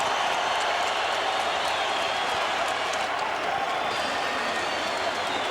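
A boxing arena crowd at Staples Center in Los Angeles claps and cheers steadily in a dense, continuous wash of applause that swells slightly and fades toward the end.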